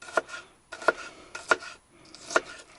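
A knife chops through an onion on a cutting board at a taiga campsite, four distinct knocks spaced evenly about two thirds of a second apart, close and clear with no talking.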